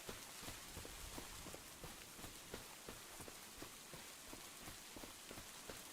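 Steady rain falls in Farming Simulator 25, with a dense continuous hiss and scattered distinct drops tapping on surfaces throughout, fairly even in loudness and with no voices.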